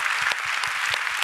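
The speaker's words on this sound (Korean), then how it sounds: "우리 EM팀들 다시 한번 박수로" A church congregation applauds during a Sunday worship service, a dense steady clatter of many hands clapping at moderate distance with no talk over it.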